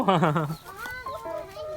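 Hungry laying hens cluck in a short burst of rapid, close calls, followed by softer scattered clucks and faint background murmur.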